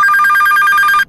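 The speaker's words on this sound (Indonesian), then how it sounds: "terdengarlah suara telepon umum itu berdering." A public payphone bell rings loudly in a rapid, continuous trill, then cuts off abruptly near the end.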